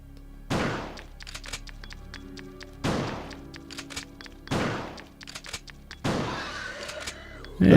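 Shotgun in Resident Evil 2 fired four times at an enemy, each blast loud and booming with a short decay, spaced about two seconds apart, with quieter clatter and footsteps between shots.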